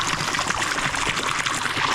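Water pours steadily out of a pipe draining a pond, a continuous close splashing flow with a gurgling, rushing texture and no voices.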